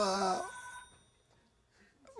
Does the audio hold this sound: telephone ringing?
yes